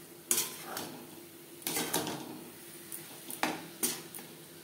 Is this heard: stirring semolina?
yes